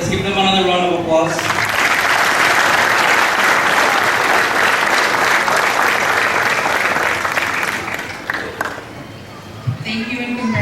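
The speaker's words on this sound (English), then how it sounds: "Let's give them another round of applause." Graduates and guests at a 2015 college commencement ceremony break into loud, dense applause that swells and holds for several seconds before thinning out, with a speaker's voice just before and after.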